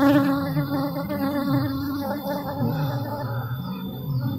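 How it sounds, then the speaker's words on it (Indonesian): Worker honeybees from a colony of yellow, black-striped bees droning in a steady, loud hum with wavering pitch, heard up close and without talk. "itu lebah pekerja yang mencari madu ya bosku"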